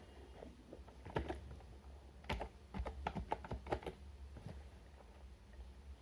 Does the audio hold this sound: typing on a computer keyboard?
yes